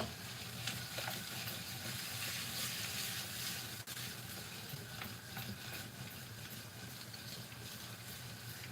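Blanched potatoes fry in a pan for a Chinese chicken curry, giving a steady, broad sizzle with faint crackles and one sharp click partway through, with no voices.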